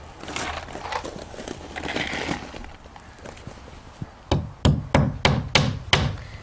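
Hammering nails into LP siding panels on a shed, with some shuffling and rustling first, then a run of six sharp, loud, evenly spaced hammer strikes close by.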